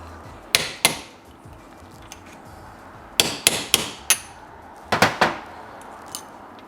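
A socket struck with a hammer to seat a bearing in an RC car: sharp close metallic knocks in small clusters of two to four blows, separated by quiet pauses, with no talk.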